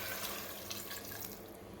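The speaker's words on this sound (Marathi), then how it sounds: "यामध्ये मी आता पाणी घालते." Water pours steadily into a cooking pot of chopped vegetables for pav bhaji, a soft continuous splashing and trickling heard close up and fairly quietly, with no talking.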